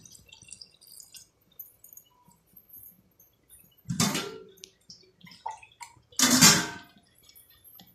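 Two short bursts of water splash and pour into a cooking pot of chicken, separated by a few seconds of quiet with faint drips and clinks.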